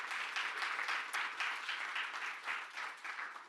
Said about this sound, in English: big round of applause for our panel